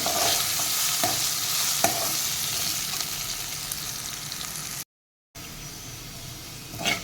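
Potatoes frying in hot oil until golden and crispy, a steady close sizzle with occasional stirring scrapes, for a capsicum (shimla mirch) dish; a brief dropout interrupts the continuous frying hiss.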